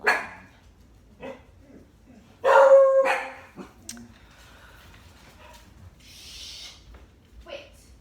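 Several pet dogs in a house bark in a loose, scattered run of yaps and woofs, one loud burst among them, with a whine and a higher yip between the barks.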